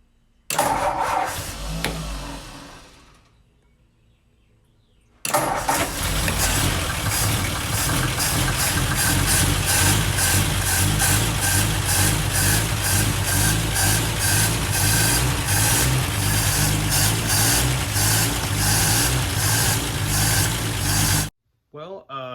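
A 1949 Ford 226 flathead six-cylinder engine cranks briefly, pauses, then catches and settles into a loud, steady idle that runs close by for over fifteen seconds before cutting off.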